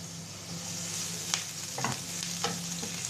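Chopped onions frying in a pan, a constant close sizzle broken by a few sharp spatula scrapes and stirring clatters, with no one talking.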